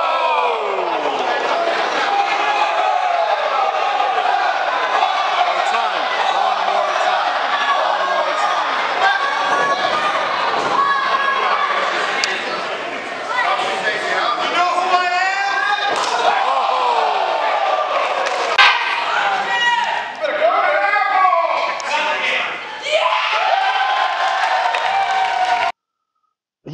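A wrestling crowd at an NXT event in Sanford, a sustained roar of cheering, shouts and chanting across the arena, with voices talking over it throughout and a sudden cut to silence at the end.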